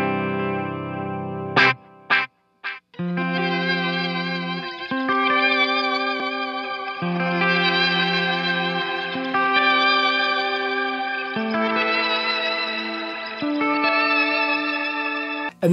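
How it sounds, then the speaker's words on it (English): Electric guitar played through a Source Audio Nemesis multi-effect delay pedal on a pedalboard: a few sharp plucked hits, then sustained chords and melodic lines with echoing repeats and modulated, chorus-like shimmer, loud and continuous with no talking. "I have my Nemesis Delay from Source Audio, which is like my favorite multi-effect delay"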